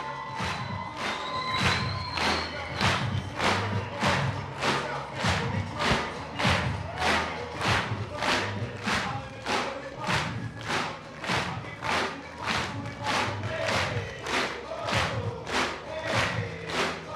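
An audience in a large hall claps in loud unison, a steady rhythmic beat of about one and a half claps per second, with cheering and shouts rising beneath the pounding.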